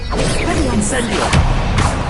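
An Incendio fire spell cast in the video game Hogwarts Legacy comes as a loud, whooshing burst with sharp smacking hits layered over steady combat noise.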